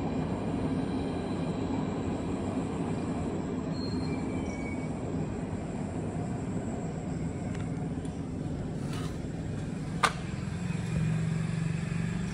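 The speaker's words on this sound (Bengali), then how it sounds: "সাইড দিয়ে যাচ্ছে ট্রেনের আওয়াজ।" A train rumbles past in a steady, continuous roar of wheels on rails, with a brief metallic squeal and clank near the end.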